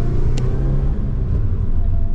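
A 1997 Eagle Talon TSi with a turbocharged engine drives along, its low, steady engine rumble heard up close from inside the car, holding a fairly constant pitch with little revving.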